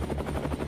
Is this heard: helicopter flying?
yes